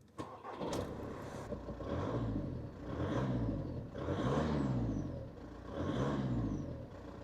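An Audi A4 engine idles and revs up in several rising and falling waves, loud and close, with no talking.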